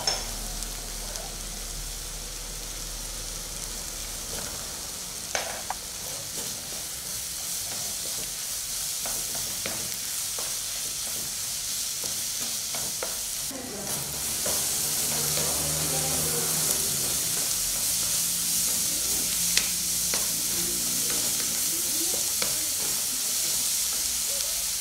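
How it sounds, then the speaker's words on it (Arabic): Onion, garlic and spinach sautéing together in a pot, giving a steady soft sizzle with occasional stirring scrapes, growing slightly louder midway and continuing evenly without voices. "الوقت اللي تشحر البصله غادي نزيدها الثومه غبره والبصله غبره"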